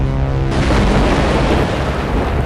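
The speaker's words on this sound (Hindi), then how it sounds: "किंग एक जोरदार धमाका करता है जिससे गोकू काफी दूर चले जाता है" A loud, dense explosion blast from a Drip Goku animation erupts abruptly and sustains a heavy rumbling roar for a couple of seconds, with no voices over it.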